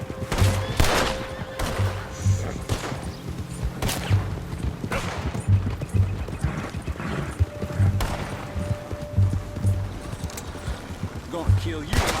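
Gunfire in Red Dead Redemption 2, with repeated shots and bursts spread through a busy game scene, hoofbeats thudding underneath, and voices talking over the action.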